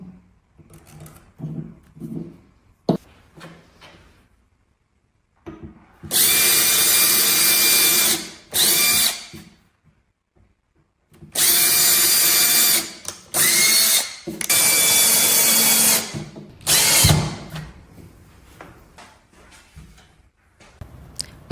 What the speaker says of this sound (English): pre-drill the holes with a bit that's slightly smaller than the screws